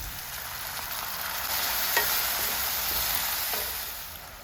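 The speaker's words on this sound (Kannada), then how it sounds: "ಸ್ವಲ್ಪ ನೀರನ್ನು ಹಾಕ್ಕೊಳ್ಳಿ." Bread upma base frying in a pan with sugar, water just added, giving a steady broadband sizzle with stirring scrapes, close and continuous, swelling slightly in the middle with no voices.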